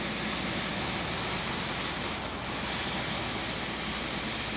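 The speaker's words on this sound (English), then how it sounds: "Well, either way, the engine's starting, so that's a good thing." An L-39 Albatross jet engine spools up in Microsoft Flight Simulator X, a constant loud turbine roar and whine, steady throughout with no speech.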